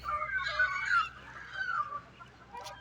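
Native chickens cluck and call continuously in the background on a hillside chicken farm in the jungle of Selangor, Malaysia, a busy flock heard at moderate distance with overlapping squawks.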